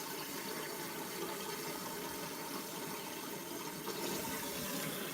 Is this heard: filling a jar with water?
yes